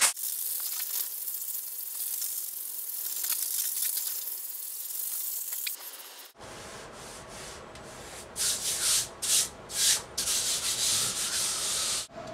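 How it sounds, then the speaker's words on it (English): A worn 220-grit sanding block rubs over a smooth surface in a tiny house build, giving a steady close scratchy hiss, then several quicker back-and-forth strokes that swell and fade. "If you go over a little bit with some sandpaper, I've got this worn out sanding block."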